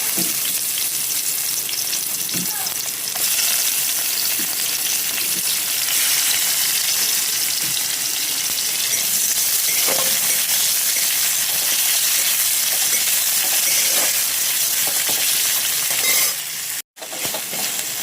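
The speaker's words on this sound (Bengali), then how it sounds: "তো এখানে পেঁয়াজ, লঙ্কা, রসুন একসাথে দিয়ে দিয়েছি, একটু লাল লাল করে ভেজে নিই।" Onion, dried chilli and garlic frying in hot oil in a wok, a loud continuous sizzle with occasional stirring scrapes, no talk, briefly cutting out near the end.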